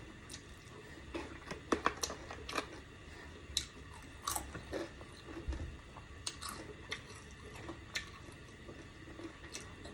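Someone in Japan chews crunchy fried meat up close, quiet irregular crunches and bites recurring over a soft background for about ten seconds, with no talking.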